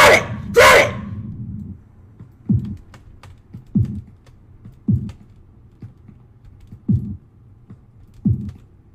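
Keys on a computer keyboard are struck in sparse, evenly spaced taps, about one every second or so, close and fairly loud in a quiet room, after a brief loud breathy vocal outburst at the start.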